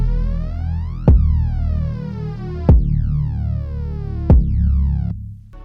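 Sidechained synth pad ducks and swells against a deep bass and punchy kick drum, three kicks spaced evenly with the sustained chord pumping back up between each, loud and alone.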